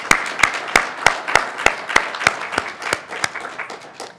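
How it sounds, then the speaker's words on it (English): Steady applause from an audience at a provincial announcement on Sikh heritage learning resources, sparse separate claps at a brisk even rhythm, fairly close and loud, thinning out toward the end. "I think he deserves a round of applause for doing that."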